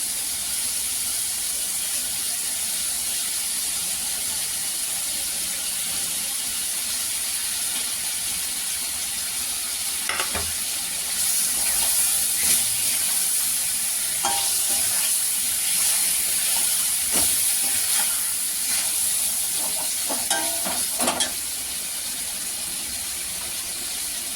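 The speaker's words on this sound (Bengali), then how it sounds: "মশলা দিয়ে তেল ছেড়ে গেছে, এবার পটলগুলোকে একটা একটা করে দিয়ে দেবো।" Pointed gourds added one by one to hot oil with spices, a steady loud hiss of frying throughout, with scattered clinks and scrapes of handling around the middle.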